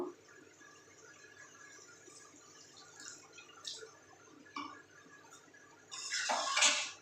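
Hot water is poured into a pot of chickpea and potato curry, with scattered clinks and drips first, then a louder burst of splashing liquid near the end, heard close by.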